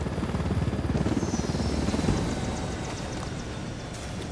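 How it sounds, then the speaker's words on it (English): A helicopter in the Ghost Recon Wildlands video game roars steadily up close, its rotor thumping as a dense continuous drone that eases off slightly toward the end, with no talking. "Let's land this thing and spawn a different helicopter."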